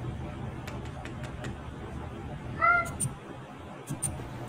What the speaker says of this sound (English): What's with all these wet cats, bro?